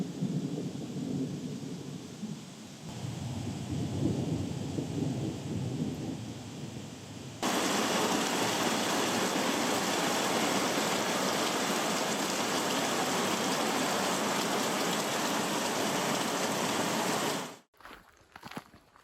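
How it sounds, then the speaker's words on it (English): Rain arriving with thunder on a hot summer day, a low rumbling wash that swells, then jumps to a dense, even hiss of rainfall that holds steady before cutting off abruptly near the end. "I do believe there's rain coming at us from that direction."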